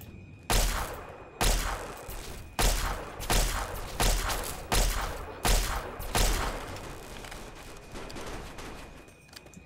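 Seven evenly spaced heavy gunshots in Fallout 3, each a loud close blast with a decaying tail, about one per second, then quiet.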